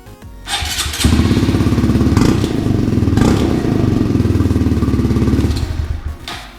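A Honda Grom fitted with a Zoom Brute exhaust starts up and revs loudly and close by, its engine note holding steady and rising in several throttle blips over a few seconds with no talking.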